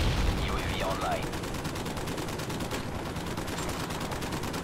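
Rapid, muffled gunfire in the video game Call of Duty Modern Warfare 3, with continuous bursts of automatic fire under a steady rumble and game voices.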